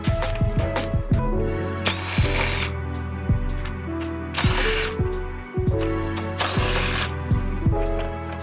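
Bolts being worked off an Alfa Romeo Quadrifoglio front bumper, bursts of whirring power-tool driving mixed with ratcheting clicks, close and loud, repeated several times with short gaps between.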